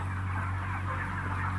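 Dense poultry flock of about 58,000 birds in a new, clean barn, a steady continuous din of clucking and honking calls close by, with no talk.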